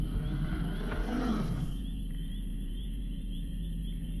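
A deep, growling alien creature roar from XCOM Long War, a Muton or Berserker, rises and fades within a couple of seconds, followed by a low hum and faint tonal background.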